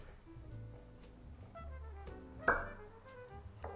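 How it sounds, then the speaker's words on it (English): A single sharp cork pop from a bottle of rye whiskey rings out midway through, short and close, amid faint quiet background tones. "Nice cork pop."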